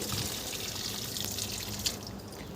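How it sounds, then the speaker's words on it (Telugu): Water splashes and trickles steadily onto newly planted garden plants, a soft continuous pour with faint drips, quiet and close, no talking. "ఇప్పుడు వరకు నాటినన్నింటికి వాటర్ పోసేసాను"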